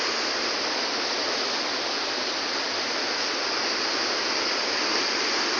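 A river rushes steadily over rocks, a dense, even roar of flowing water close by that holds constant without pause.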